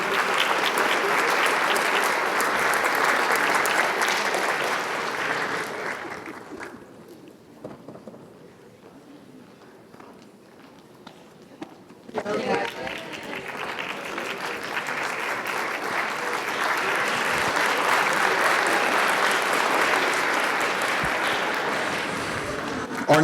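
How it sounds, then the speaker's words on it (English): An audience at a school board meeting applauds the district champion Wolves tennis team, a dense burst of clapping that dies away to near quiet, then swells again into sustained applause. "One more round of applause for the district champion Wolves."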